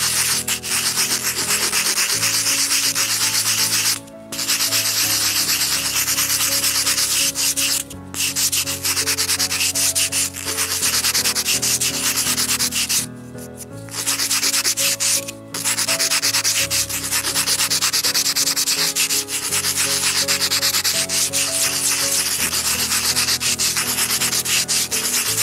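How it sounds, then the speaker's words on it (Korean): Sandpaper rubbing against a small wooden miniature bowl, a steady close scratchy sanding that runs almost continuously with a few brief pauses, no talking. "손은 사포로 샌딩 작업을 해주는 건데 처음엔 천천히 따라해 주시고요"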